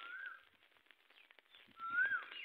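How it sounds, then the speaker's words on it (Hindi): Koel calling outdoors, two faint clear whistled phrases at the start and end, distant and thin over quiet background rustle. "कोयल की आवाज़"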